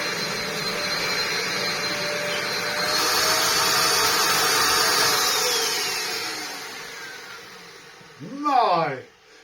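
A vintage Dyson DC03 upright vacuum cleaner runs with a steady airy whine and rushing airflow that swells and eases, close and loud, with a voice speaking briefly near the end.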